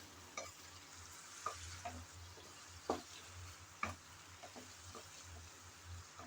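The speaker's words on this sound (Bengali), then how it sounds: "চিংড়িগুলো দিয়ে ভালোভাবে কষিয়ে নেব" Small cleaned shrimp sauté in a pan with a steady low sizzle, punctuated by occasional clinks and scrapes of stirring, close and fairly quiet.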